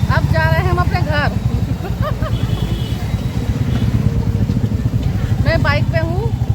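Motorbike idling and rolling slowly through a crowded evening market, a low steady engine throb underneath as someone talks over it for most of the time.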